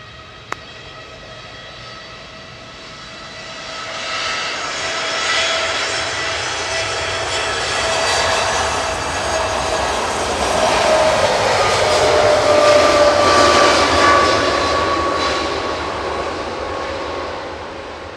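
A Boeing 787-8 Dreamliner jet departing Manchester Airport for Burgas: steady engine roar swelling from a distance, peaking loud with a whining tone as it climbs away, sustained for the whole stretch without voices.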